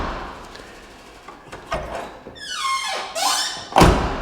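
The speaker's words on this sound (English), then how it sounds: "watch how this door closes" A square-body Chevy truck door, freshly adjusted with a new striker, swings and closes with squeaks and a final solid thunk, preceded by quieter handling sounds.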